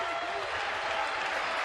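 A basketball arena crowd cheers and applauds steadily after a Fresno State dunk in a game against Wyoming, a dense sustained roar heard under an announcer's commentary.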